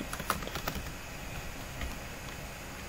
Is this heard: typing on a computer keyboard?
yes